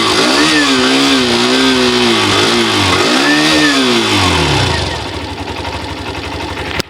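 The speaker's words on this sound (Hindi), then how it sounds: "साउंड सुन लेते हैं, पहले एक्सट्रीम 125 का साउंड सुन लेते हैं," A Hero Xtreme 125R motorcycle engine revs loudly and close, rising and falling twice in smooth sweeping pitch, then drops back to a steady, rapidly pulsing idle.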